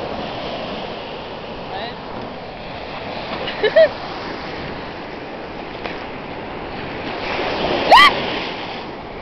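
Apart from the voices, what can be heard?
ocean waves breaking at the beach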